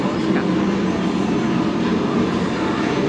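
Universal's park-to-park transfer train at a station, giving a steady, loud rumble of rail cars and mechanical hum throughout, with faint voices in the background.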